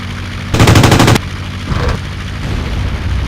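Aircraft machine guns fire one loud, rapid burst lasting about half a second in the Aces High 2 air combat game, followed by a softer rumble of engine and flight noise.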